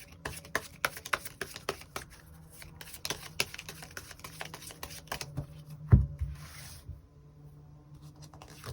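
Tarot cards are shuffled by hand in a steady stream of soft riffling snaps and papery flutters, close and fairly quiet, with one heavier thump near the end.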